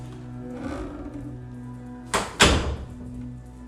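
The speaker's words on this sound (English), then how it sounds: "since you like to slam doors in this house, do you think you could do it now?" A door inside a house is shut hard, giving two loud, close thuds in quick succession over a low steady hum, with no talking.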